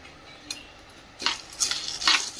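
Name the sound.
roasting roasted chana dal in ghee, stirring in pan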